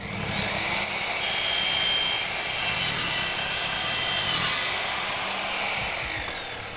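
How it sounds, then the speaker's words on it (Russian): A vacuum cleaner roars steadily nearby during mosaic panel installation on an aluminum frame, with a sharper high-pitched whine layered on top for a few seconds in the middle before fading. "А еще мы включим пылесос, чтобы далеко стружка не улетала."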